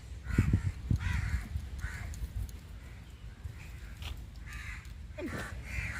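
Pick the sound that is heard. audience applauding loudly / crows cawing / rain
crows cawing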